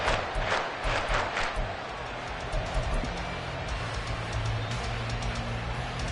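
Roaring stadium crowd in the Madden 24 NFL football video game, a broad steady wash of cheering with a few louder swells near the start, sustained throughout.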